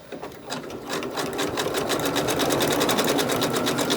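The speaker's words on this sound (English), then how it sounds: "I'm just going to backstitch and cut my threads." A sewing machine stitches through terry towel fabric, starting with uneven bursts and then settling into a fast, steady mechanical whir, close and loud with no talking.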